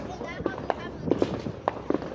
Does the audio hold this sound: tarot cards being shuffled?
no